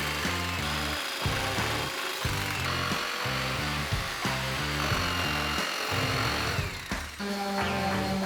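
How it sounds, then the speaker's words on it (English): A jigsaw cuts a freehand grip shape out of wood for a table saw push block, making a loud, continuous buzzing saw whine with brief pauses and changes in pitch. "use my jigsaw to cut out most of the material"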